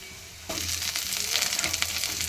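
Winter vegetables hit a pan of onions fried until reddish, for an amudi fish curry. A loud, dense sizzle bursts in suddenly and keeps crackling steadily on its own.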